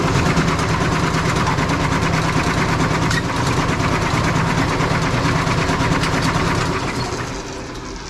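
Brunswick bowling pinsetter machine running as its deck raises, a loud steady mechanical rumble and rattle that continues evenly, then winds down and drops in level near the end.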